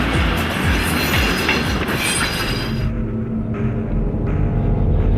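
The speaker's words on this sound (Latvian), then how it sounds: "Vilcienu, kurš lēnā gaitā brauc un tikai vienā vienīgā vagonā" A slow single-carriage train rolls through the Ural Mountains, its steady rumble and rhythmic wheel clatter close and continuous, with the rattle easing slightly partway through.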